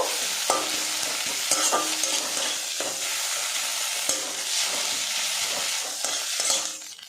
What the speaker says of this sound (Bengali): মাছ দিয়ে দেবো গরম মশলা পাউডার পেঁয়াজের সাথে আরেকটু নাড়াচাড়া করে নেব